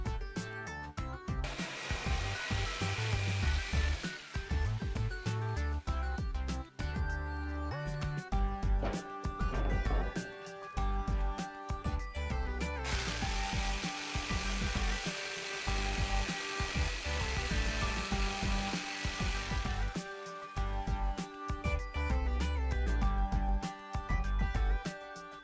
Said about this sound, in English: For example, the sand tool that I'm using